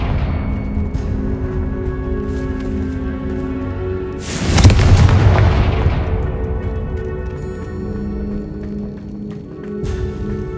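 A Confringo fire-blast spell explosion in Hogwarts Legacy, a single loud booming burst about four seconds in that slowly dies away over sustained background music.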